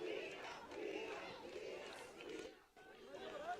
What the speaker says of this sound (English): Crowd's gone ballistic on that far side.